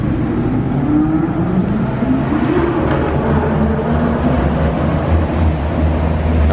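A rare white Alfa Romeo 8C Spider accelerates nearby. Its engine note climbs in pitch as it pulls away, over a continuous throaty roar of moderate loudness.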